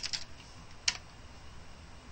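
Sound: typing a command on a computer keyboard

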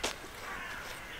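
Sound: crow cawing outdoors at dawn

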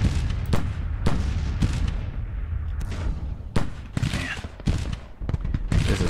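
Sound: infantry volley gunfire in video game Grand Tactician

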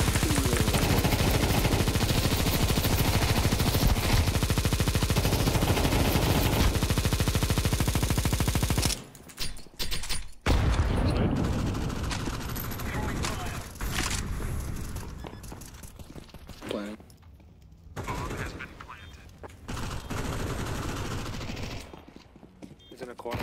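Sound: gunshots in a video game (Faceit shooter)

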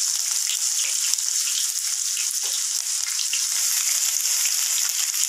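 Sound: onions frying in oil with mustard seeds

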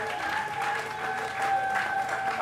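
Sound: church congregation applause

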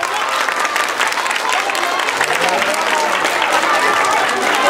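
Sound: crowd applause for a contest participant

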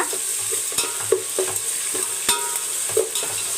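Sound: onion and prawns sautéing in pan

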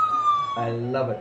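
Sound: police car siren

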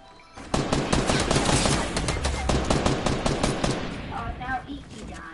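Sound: gunfire in video game Fortnite

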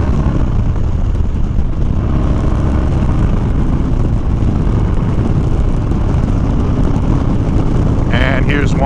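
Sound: Harley Dyna motorcycle at 60 mph, quick brake check

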